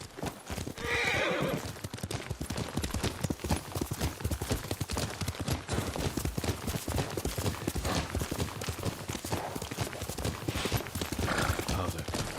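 A horse gallops steadily in the Ghost of Tsushima video game, dense rapid hoofbeats throughout with a brief whinny near the start and another toward the end, no speech over it.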